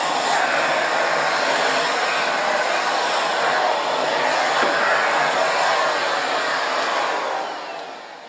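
A Miele C3 canister vacuum cleaning a hard floor runs with a loud, constant whooshing motor roar that stays even throughout and eases off slightly at the very end, with no talking.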